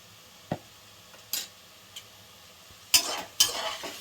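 Spice powders, coriander powder and garam masala, are stirred in a frying pan, with a few separate spoon scrapes and soft sizzling bursts, quiet and spaced out, two louder strokes near the end.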